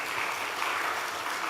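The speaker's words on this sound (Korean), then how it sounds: "박수하겠습니다." Church congregation clapping to welcome new believers at a festival service, a steady even wash of applause from a crowd, moderately loud throughout.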